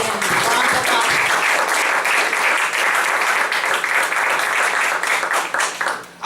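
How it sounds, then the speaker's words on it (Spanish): A church congregation applauding, dense sustained clapping from many hands that holds strongly for several seconds before thinning out and fading at the end. "give him a round of applause."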